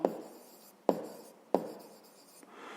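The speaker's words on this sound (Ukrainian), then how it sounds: "Пишемо відповідь." A pen taps and scratches on paper while a maths answer is written by hand, three sharp strokes followed by quiet scraping, close and soft.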